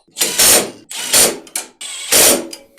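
A ratchet wrench tightens the sprocket carrier bolts on a go kart in three close, loud bursts of rapid clicking, with short pauses between them.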